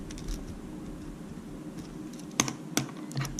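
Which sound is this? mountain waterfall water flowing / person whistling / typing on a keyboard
typing on a keyboard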